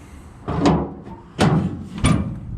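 Tailgate of a 1995 Chevy K2500 pickup opening and closing, three loud metallic clunks spaced about a second apart, close by, with no speech.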